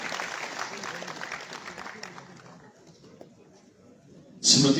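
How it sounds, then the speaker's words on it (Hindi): Audience applause at a formal ceremony honouring participants, a dense wash of clapping that fades toward the middle before a sudden loud burst near the end. "तालियों से हम सब अपनी शिरकत को दर्ज करवा सकते हैं।"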